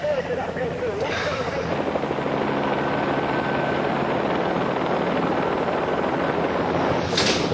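A police helicopter hovers overhead with a loud, steady rotor drone that stays constant throughout, while voices talk over it.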